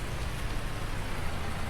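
Steady rain falls in the Farming Simulator 19 game, a dense, even hiss of drops that fills the whole stretch at constant loudness, with no voices.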